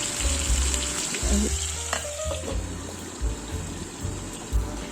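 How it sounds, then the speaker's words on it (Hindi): Chicken frying in a pan, a close, steady sizzle with occasional stirring clatter and bubbling, continuous with no talk. "चिकन को अच्छे से अभी फ्राई कर लेंगे।"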